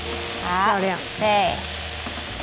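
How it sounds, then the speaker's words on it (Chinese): Scallops sear in a frying pan with a steady, close hiss and sizzle throughout, while people talk briefly over the cooking. "那这个时候要看干贝有没有煎得漂亮"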